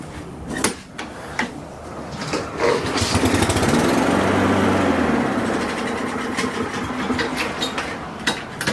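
Honda GCV160 small engine, with a choke that fails to return, being pull-started: a few rattling tugs, then the motor catches and runs steadily for several seconds before fading to quieter knocks.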